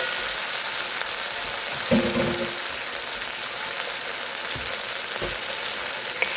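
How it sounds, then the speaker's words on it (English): Marinated beef for Szechuan beef hits hot oil in a pan with a loud, steady sizzle, a burst of crackling and clatter as it goes in, then continuous frying hiss. "Then we'll add the beef that's already been marinated."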